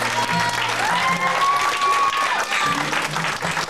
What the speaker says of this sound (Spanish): Démosles un fuerte aplauso